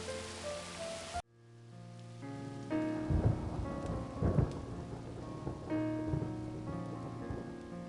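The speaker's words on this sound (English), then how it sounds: "A storm like that will keep us all indoors." A stormy night: a brief music passage cuts off abruptly, then heavy rain sets in with several low thunder rolls and cracks over a steady downpour, no speech.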